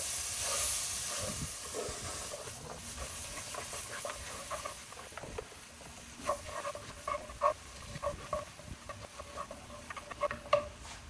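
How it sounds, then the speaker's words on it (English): Vegetables sizzle in a hot gumbo roux cooked on a Weber charcoal grill, a soft steady hiss with scattered crackles and clicks of stirring growing more frequent toward the end. "we've been stirring these vegetables around in the roux for a couple of minutes now"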